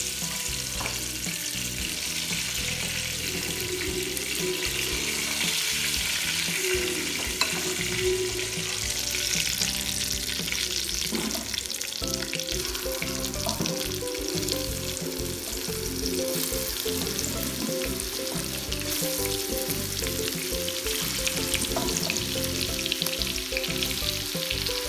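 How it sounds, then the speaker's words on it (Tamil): Chicken frying in a pan for a home-cooked Sunday lunch, a steady, continuous sizzle with occasional stirring and faint water-like crackle, close and moderately loud, no voices. "ரோஸ்ட்டுக்குள்ளே சிக்கன் ஃப்ரை ரெடி ஆயாச்சு."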